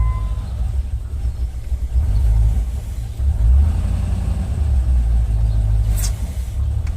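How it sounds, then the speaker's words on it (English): A Land Rover 4.0 V8 engine with a stalling fault rumbles close and loud, its revs swelling and settling in a couple of surges. "When you start the vehicle on these Land Rovers, it runs fine until it warms up."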